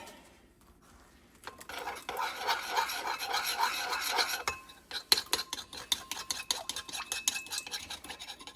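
A strawberry spinach salad with eggs, walnuts and black pepper is tossed and mixed in a bowl, giving close, rhythmic rubbing and scraping with light clinks of utensils, with no talk.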